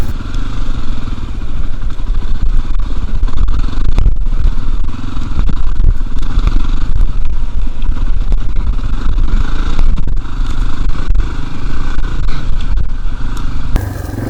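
Dirt bike engine roaring continuously while riding through Vermont wilderness, loud and close with a rough, buzzing drone, rising and falling with throttle and rattling over rough ground.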